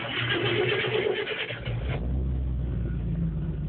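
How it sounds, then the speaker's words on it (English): International 1210 truck with a 392 big-block V8 and four-barrel carburetor cranks and fires up, then settles into a deep, steady idle, heard up close. "I'll fire up this International just so you guys can hear it"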